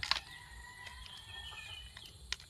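Chickens cluck and call faintly from some distance outdoors, with a few short, brighter calls standing out over steady low background noise, on a plot where chili pepper seeds have just been sown.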